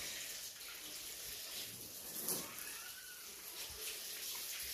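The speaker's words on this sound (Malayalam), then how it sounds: "ജസ്റ്റ് ഒന്ന് വെള്ളം ഒഴിച്ച് കൊടുക്കുക" Water is poured over a muddy tyre to rinse the dirt off, with no soap or shampoo, giving a steady, soft splashing wash that runs throughout.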